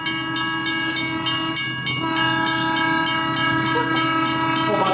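A train approaches, blowing its horn in steady, loud sustained tones over rumbling wheels and rhythmic clickety-clack, close by and with no voices.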